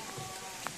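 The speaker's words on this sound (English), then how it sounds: "because it's raining right now" Soft, steady rain patters quietly with a faint hiss, and a single brief drip stands out near the end.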